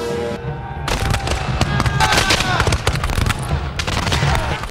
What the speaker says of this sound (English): the roar of gunfire.